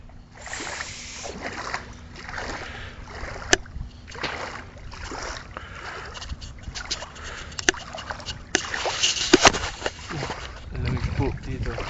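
Cold seawater at the shore sloshing and splashing around people wading, irregular watery surges under frequent close voices talking and calling out.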